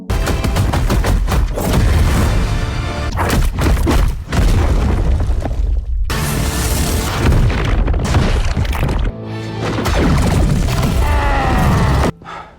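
Heavy booming explosions and crackling blasts pile up one after another, loud and chaotic, with brief gaps of near-silence between bursts.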